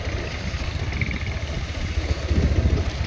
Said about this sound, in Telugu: ట్రాక్టర్ నడుస్తుంది